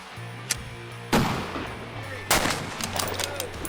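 Rifle shots ring out at an outdoor shooting practice during an Alaska bear hunt: three sharp, loud reports spaced about a second apart, each followed by a short decaying echo, with quiet background between.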